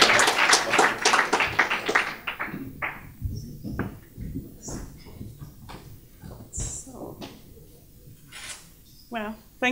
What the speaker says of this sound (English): And now maybe a second round of applause